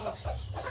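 A desi hen clucks softly beside her clutch of about twenty-two eggs in a farm nest, low murmuring sounds rising and falling over a faint background hum.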